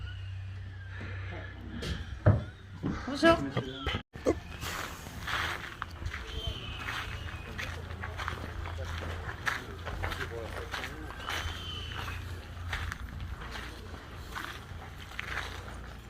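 A horse whinnies and hooves clop along pulling an old cart, while people talk nearby over busy outdoor background noise at an open-air museum in Alsace.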